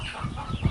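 A few short, low clucks from an Australorp rooster, close by and fairly loud, in a brief burst with no talking.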